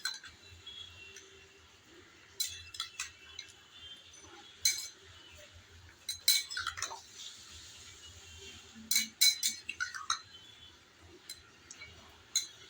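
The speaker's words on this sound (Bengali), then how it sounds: "দইটুকু আমি চিকেনের সাথে ভালোভাবে এভাবে চামচের সাহায্যে মিশিয়ে নিচ্ছি।" A spoon clinks lightly and irregularly against a bowl while yogurt is mixed into raw broiler chicken, with soft scattered taps over a quiet background.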